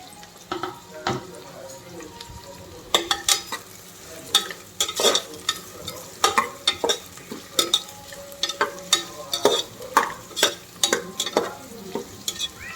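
Onion sautés in hot oil in a pan for mutton biryani, a low sizzle broken by repeated scraping stirs of a spoon that come in irregular bursts, close and fairly loud.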